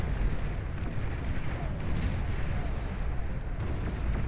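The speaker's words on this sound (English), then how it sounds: "sending in the Peacemakers, orbital to ground cannons, firing away a barrage from the high heavens" Orbital-to-ground cannons bombard the ground from space in the strategy game Beyond All Reason, a dense, continuous barrage of heavy booms and rumbling impacts, loud and unbroken throughout.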